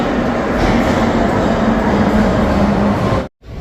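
Interior of a moving metro train in Kolkata heading to Dum Dum, a loud steady rumble and rail drone with a faint tone, cut by a brief sudden dropout near the end.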